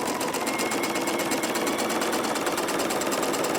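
Close and continuous, a sewing machine hums at a rapid, even stitch rate while it sews pieces of a Farmer's Wife quilt together, without pauses or voices.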